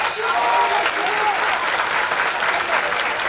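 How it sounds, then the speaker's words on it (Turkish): Sustained audience applause at a televised Turkish award event (Altın Güvercin), steady and dense throughout with a few brief whoops at the start. "Kocaman bir alkış"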